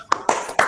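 Three sharp hand claps in a classroom clapping chant, quick and close, spaced a fraction of a second apart.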